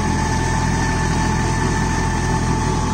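A Swaraj Target 630 mini tractor engine with a Sakthi Plus rotary tiller runs steadily at idle, a loud, even, throbbing rumble with no voices.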